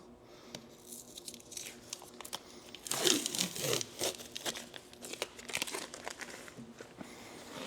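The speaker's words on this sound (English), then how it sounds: "Let's get these stickers pulled off." Stickers peeled off a Subaru WRX STI wheel, soft close crinkling and tearing sounds in irregular bursts, quiet at first, then a louder rip and continued rustling.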